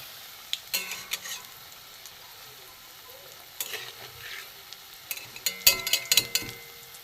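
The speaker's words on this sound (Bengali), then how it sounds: "এই করে আমি বলগুলো ভেজে নেব বটবটির বল" Hyacinth bean kebab balls fry in hot oil, giving a steady close sizzle punctuated by sharp clinks and scraping stirs that grow busier toward the end, with no voices.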